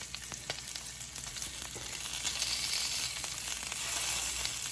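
Salmon and shrimp stir fry sizzling steadily in a hot pan, a continuous close frying hiss with small pops and crackles and no voices.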